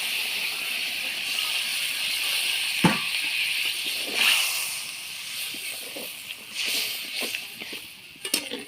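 Poppy seed paste water poured into a pan of well-fried potatoes and bean seeds, giving a steady, fairly soft hissing steam-sizzle with a few brief knocks and splashy bursts scattered through it.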